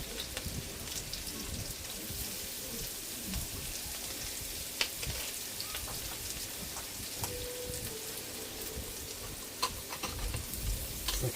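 Garlic and chilli frying in a pan give a steady, soft crackling sizzle throughout, with the occasional sharper pop over a low background rumble.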